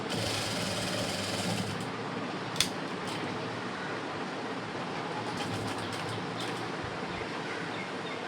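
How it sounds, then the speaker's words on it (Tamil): A sewing machine stitches an embroidered blouse, giving a steady, close mechanical whir that runs continuously, with a brief click partway through and no talking. "இன்னும் கொஞ்சம் இடம் தைச்சிட்டு நிறுத்தணும்."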